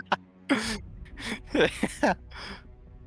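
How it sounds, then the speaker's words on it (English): A few short, sharp coughing bursts with breathy throat sounds between them, close and fairly loud. "He just coughed twice."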